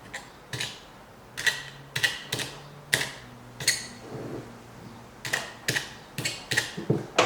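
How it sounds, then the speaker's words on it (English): Foil over a Fumari hookah bowl is poked with holes, giving a series of sharp, close clicks and pops. They come in irregular bursts, some in quick pairs, with soft creaks between them. "I like to put a few holes in the spire. Make sure it's all evened out."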